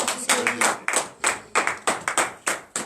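A congregation at a Wednesday morning prayer service in Benin claps in a regular rhythm, about ten sharp, close hand claps keeping an even beat.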